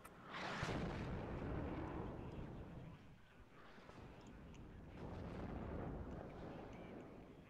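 Artillery fire in the Cold War strategy game Warno, a heavy rumbling boom rolling out at the start, then a sustained low roar of further distant blasts swelling and fading, faint and without talk.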